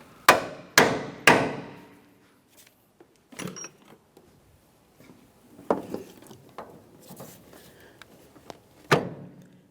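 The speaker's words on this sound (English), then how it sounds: "Let's put a 13mm socket on these." Hand tool with a 13mm socket working loose the strut top mounting nuts on a 2002-2005 Ford Explorer front shock assembly, a few sharp metallic knocks early, then sparse ratcheting clicks and taps, close and fairly quiet.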